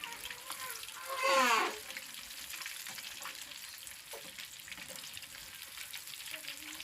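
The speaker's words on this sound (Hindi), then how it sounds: "फ्राई हो रही है।" Fish frying in a pan at a village fish party gives a soft, steady sizzle with a brief louder splash of bubbling early on, faint and close.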